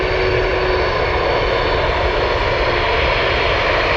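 Boeing 747 Dreamlifter cargo jet at Anchorage airport, a loud, steady, broadband engine roar filling the whole stretch without change, no voices.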